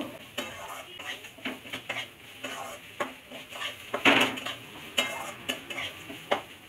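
Spiced rice frying in a pan for Basanti pulao, stirred with a utensil that scrapes and clinks against the metal in irregular repeated strokes over a low sizzle.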